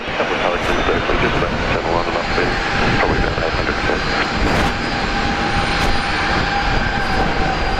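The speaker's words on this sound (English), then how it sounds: "we've got Singapore Airlines, a Princess A380 900. She's on the way to the new runway" Singapore Airlines Airbus A380 taxiing toward the runway at Brisbane Airport, a loud steady jet engine roar heard from nearby across the whole stretch, with people talking faintly underneath.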